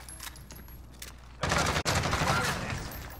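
Dense burst of automatic gunfire and explosive crackle from the battle royale game Call of Duty Warzone, erupting loudly after a quieter stretch and sustained with a brief dropout midway.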